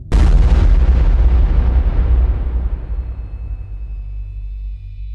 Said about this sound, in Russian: примерно через 10 секунд происходит взрыв